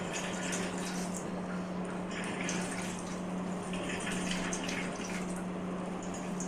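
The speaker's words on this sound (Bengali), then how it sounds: "আম থেকে চিপে চিপে জলটাকে নিংড়ে বের করে নেব" Water being squeezed out of grated raw mango by hand for a pickle, a soft continuous trickle and splash over a low steady hum, with no talking.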